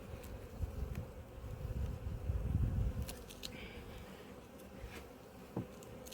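Honeybees of good stock hum steadily around an opened hive in an apiary, a dense low drone that swells midway and eases off, with a brief knock near the end.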